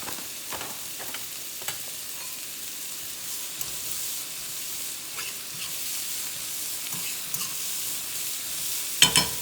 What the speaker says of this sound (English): I'll get it back on the heat once I get these vegetables nice and sauteed